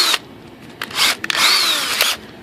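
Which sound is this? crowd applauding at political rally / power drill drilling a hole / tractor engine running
power drill drilling a hole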